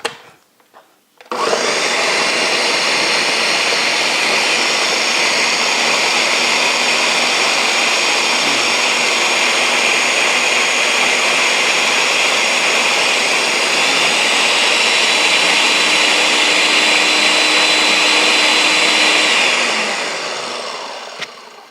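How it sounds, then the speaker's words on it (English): An electric blender purees red chili sauce, starting abruptly and running as a loud, steady, high-pitched whir for nearly twenty seconds before winding down, with no one speaking. "And then you blend it into a puree."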